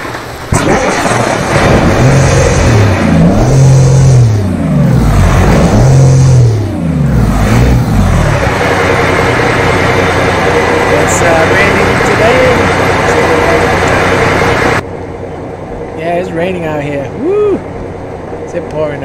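A truck engine in the American Truck Simulator video game starts and revs. Deep surging revs rise and fall several times before settling into a steady idle, with someone talking over it.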